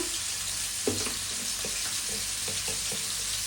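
Onions frying in a pan for a Bengali gourd-leaf and potato curry, a steady close broadband sizzle with a few soft stirring clinks over a low background hum.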